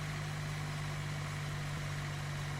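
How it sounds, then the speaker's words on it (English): Aircraft ground power unit in the FSX flight simulator during engine start of a Hawker Siddeley HS 748, a steady low mechanical hum with a strong drone that swells slightly, alone and fairly quiet. "We should hear a little bit of rev up on that GPU"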